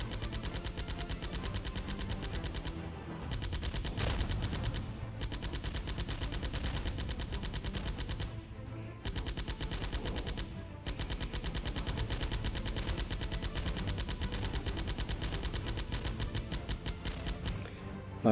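Rapid automatic gunfire in the VR shooter Cargo Cult comes as dense, continuous bursts with brief pauses, steady and loud throughout, with no talking.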